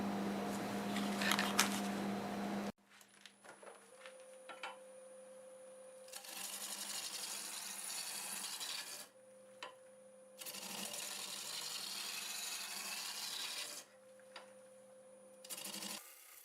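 Wood lathe turning a piece of sequoia at about 655 RPM with a 1.25 inch spindle roughing gouge, a brief loud rush, then quiet hum alternating with several multi-second bursts of gritty cutting as the tool meets the wood.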